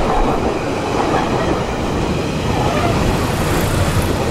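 A limited express train runs through the temporary Balloon Saga station without stopping, a loud, steady rushing roar with rail clatter that fills the whole moment, with no voices.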